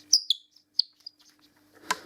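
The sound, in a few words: rubbed bird call decoy imitating a thrush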